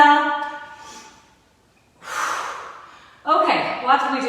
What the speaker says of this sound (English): One more, inhale, exhale.